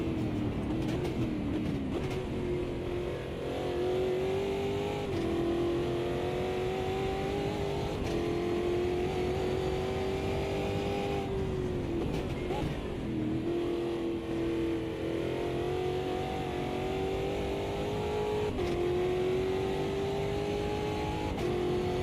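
Stock car engines in Automobilista 2 hold a steady, loud droning whine, with pitch rising and dipping slightly as the Brazilian stock cars rev and shift throughout, no talking.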